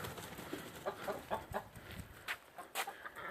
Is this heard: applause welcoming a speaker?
no